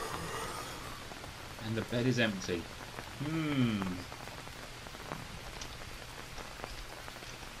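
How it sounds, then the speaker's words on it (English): Rain falls steadily in a jungle in the video game Green Hell, a constant soft patter on surfaces throughout, with someone speaking briefly over it. "Rain."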